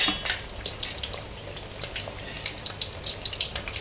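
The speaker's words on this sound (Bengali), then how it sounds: "এই তো আমি এখন এরকম করে ভেজে নেব তো মিডিয়াম আছে এটা ভাজতে হবে নইলে পুড়ে যাবে" Egg and potato pitha frying in a pan over medium heat, a continuous close sizzle dotted with small sharp oil pops.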